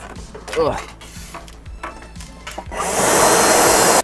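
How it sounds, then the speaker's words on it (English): A blower roars on to clear leaves from a rusted Toyota 4Runner battery compartment, a loud steady whoosh rising in the final seconds after scattered knocks, clatter and some talk. "Yeah, I'm gonna grab the blower. When in doubt, blow it out."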